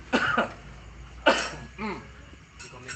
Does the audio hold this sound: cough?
yes